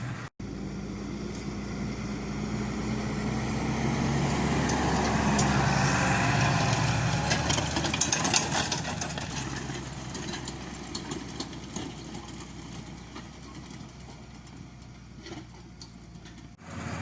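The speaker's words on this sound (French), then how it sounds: "Donc le tracteur, vous l'entendez certainement hurler un peu. Il a 1800 tours à peu près" A farm tractor engine runs at about 1800 rpm while a field is prepared for spring barley. It gives a steady, loud droning hum with some rattling and clanking, swelling slightly in the middle and then easing off.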